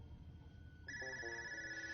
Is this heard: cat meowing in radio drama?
no